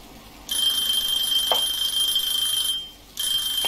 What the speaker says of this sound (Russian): Будильник. Значит, наша картошка готова.